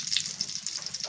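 Soybean oil pours steadily into a cooking pan, a continuous soft gushing hiss with faint bubbling, close and alone with no talk.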